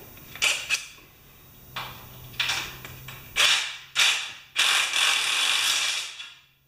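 New washer nuts being tightened on a table made from used metal, heard as a sequence of sharp ratcheting, clicking metallic bursts, close and loud, coming in uneven groups with short gaps.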